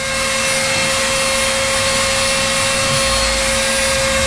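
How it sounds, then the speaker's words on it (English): A Dremel rotary tool whines steadily and loud throughout wood carving, a continuous high-pitched motor drone with no pauses. "one more thing before I shut off the Dremel."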